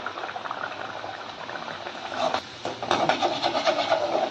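Wheat-flour puri dough frying in hot oil, a steady bubbling sizzle that swells louder and denser partway through as the dough goes in, close and continuous with no talking.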